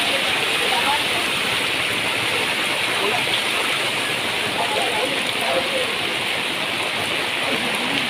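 Heavy rain with rushing floodwater during a sudden flood, a dense steady roar of water throughout, close and constant, with people talking faintly under it.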